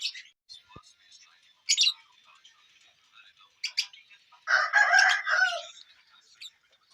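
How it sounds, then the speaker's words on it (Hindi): A white rooster in a village yard crows in several bursts, the loudest and longest near the end, with clucks and small bird chirps between calls and a quiet outdoor background. "ये है सबसे खूबसूरत मुर्गा, सफ़ेद और इसके साथ वाइट मुर्गी है।"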